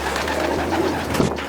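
Racing pigeons at a large California one-loft race facility coo close by, a soft, throaty rolling call with a murmur of other birds behind it, and no voices.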